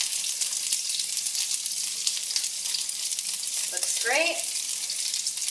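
Chicken pieces sizzling steadily in a hot pan for sweet and sour chicken, a dense continuous frying hiss with a few scraping turns as pieces are flipped, while a voice briefly speaks.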